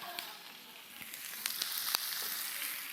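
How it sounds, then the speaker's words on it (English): Peppers and onions frying in a big skillet over medium to medium-high heat, a steady close hiss of sizzling oil with small crackling pops, moderately quiet, no talking. "we're going to add our peppers and onions into our big old skillet"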